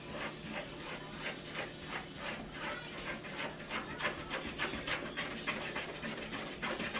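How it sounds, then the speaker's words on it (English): A spatula scrapes around the sides of a mixing bowl of keto chocolate cake batter, making a steady run of rhythmic rubbing strokes, close and continuous with no speech. "Scrape the sides down. Keep mixing it till it's all nicely well mixed."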